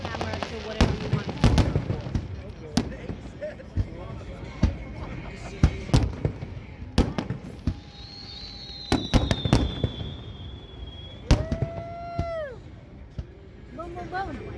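Labor Day fireworks burst in repeated loud booms and crackles, with several rising whistles between the blasts and voices audible in the background.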